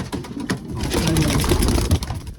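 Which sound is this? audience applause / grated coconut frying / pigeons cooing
pigeons cooing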